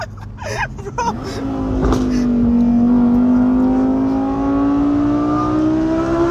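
A Ferrari 488's engine climbs into a sustained, loud, tonal rev that holds and gently rises for several seconds, after a moment of excited voices at the start.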